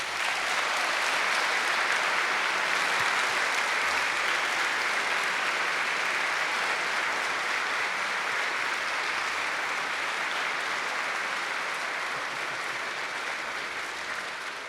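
A concert audience at Grand Verdun claps loudly and continuously for about fifteen seconds, a dense, even wall of applause that tapers only slightly toward the end.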